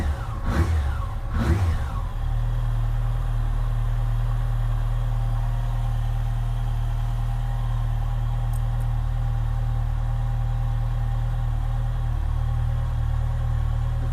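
A 2007 Yamaha FJR motorcycle engine, newly replaced, idling at about 1200 RPM after its first start: a couple of short revving blips at the start, then a steady, even low hum that holds close and unchanging.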